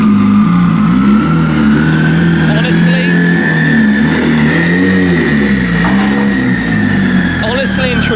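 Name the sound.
car engine revving with wastegate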